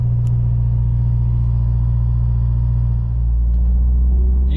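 Steady, loud low rumble of a car idling and creeping along in Dallas–Fort Worth traffic, heard from inside the cabin, with a brief dip in the drone partway through and no talk.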